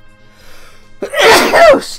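A single loud, close human sneeze bursts out after a second of quiet room tone, with a sharp intake and a forceful explosive release.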